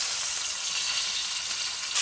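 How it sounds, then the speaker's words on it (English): A pot roast sears in a hot pan, giving a steady, close, fairly loud sizzle that holds evenly for about two seconds and swells slightly at the end. "I'm going to try to tip this up and sear the sides too"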